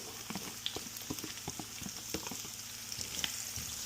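Onion hitting a hot pan of garlic for pork loin fried rice, crackling and sizzling close by with quick popping spatters, moderate in level and without talk.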